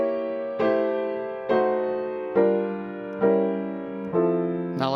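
Jazz piano drop 2 four-note chord voicings moving through the cycle of fifths, five sustained block chords struck at a steady, even pace, each ringing out and decaying before the next, played alone without talk.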